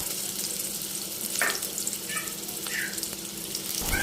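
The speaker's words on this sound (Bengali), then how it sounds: "তেলটাকে ভালো করে গরম করে নিয়ে এরপর আমি পেঁয়াজ কুচি দিয়ে দিব" Chopped onions fry in hot oil in a pan, with a steady sizzle and a few brief scraping stirs.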